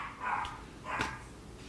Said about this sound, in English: Dogs are pissed.